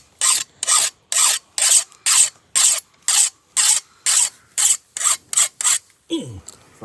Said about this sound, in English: sharpening his machete.